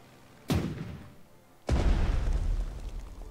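Two heavy booms from a strafing run on ground and naval targets in the Strategic Mind war game, a sharp blast followed a second later by a louder, longer rumbling explosion.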